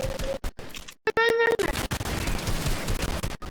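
Rapid bursts of gunfire in the Fortnite battle royale game crackle near and loud, with a short sharp volley broken by brief gaps, under a player's voice.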